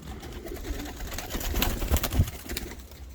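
Pigeons cooing at close range in a loft or box, several soft throaty coos layered over each other in a brief, busy stretch with a few rustles.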